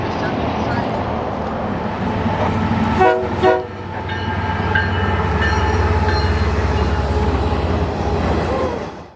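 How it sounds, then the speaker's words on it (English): An empty Canadian Pacific coal train led by a GE Evolution locomotive rolls through a town on the Windermere Sub, sounding a brief horn blast before a deep, steady rumble of engine and wheels. "A surprise coal train led by a surprise Gevo."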